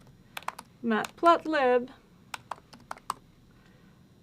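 Short bursts of computer keyboard typing, crisp key clicks clustered before and after a brief stretch of a person speaking, fairly close and moderately quiet.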